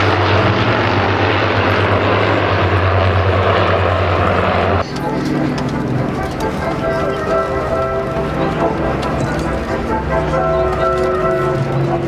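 Avro Lancaster bomber engines drone steadily at an airshow, a loud, continuous propeller roar that shifts in tone midway as the aircraft passes, heard under an announcer's talk.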